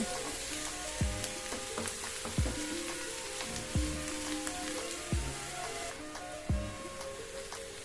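Onions sprinkled with a few grains of sugar fry toward red-brown in a pan for katla fish curry. A constant sizzle is punctuated by regular knocks of a stirring spatula about every second, with no speech.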